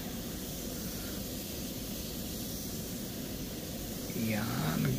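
Spray gun applying clear coat to a pickup truck's fender, a steady broadband hiss running throughout that grows slightly louder and fuller in the last second.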